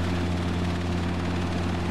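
A Robinson R22 Beta helicopter in a flight simulator game, a dense steady rotor and engine drone with a strong low throb, loud and continuous.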